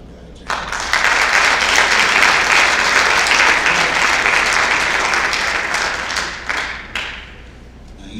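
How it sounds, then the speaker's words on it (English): Loud, sustained applause from an audience at a college signing event, dense clapping with a few cheers that swells and holds for several seconds before thinning out near the end. "So please clap it up for my guy, Jamie."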